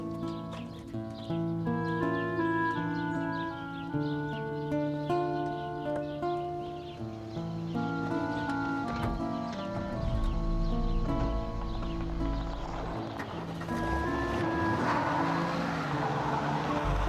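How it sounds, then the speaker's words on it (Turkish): Horse hooves clopping steadily with an occasional neigh at a Turkish country mansion, continuous and fairly close, over a bed of music with no talk. "Azıcık atı çıkart da şurada dolaştır Bekir."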